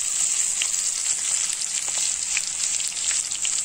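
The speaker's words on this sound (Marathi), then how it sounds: "लसूण छान फ्राय होऊ द्यायचा 1 सेकंद" Garlic sizzles steadily in hot oil while making methi bhaji, a constant bright crackle with small pops, close and alone throughout.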